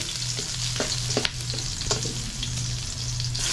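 Red onion sizzling and frying in a hot pan for Ilocano pakbet, a steady close crackle with occasional stirring scrapes throughout.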